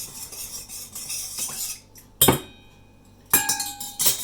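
A spoon scrapes and clinks against a bowl while stirring a black pepper mixture for Thai cashew chicken, giving soft rubbing strokes and then several sharp metallic clinks near the end, with no voices.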